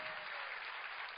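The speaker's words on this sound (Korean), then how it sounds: "박수, 박수, 박수." A church congregation claps during a Sunday sermon, a dense, steady wash of applause filling the short moment without pause.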